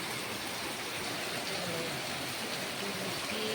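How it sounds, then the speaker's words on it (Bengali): Steady rain drums on a tin roof over a flooded kitchen during a downpour, a dense continuous patter that holds evenly throughout with no voices. "দেখেছো বৃষ্টির জলগুলো পড়ছে টিনের মধ্যে"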